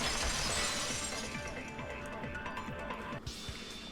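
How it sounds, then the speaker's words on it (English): Glass shattering sound effect in the video game Danganronpa 2, a bright crash of breaking glass with a scatter of tinkling fragments, then a sudden cut near the end. "At the entrance hall, the girls heard the sound of the window shattering."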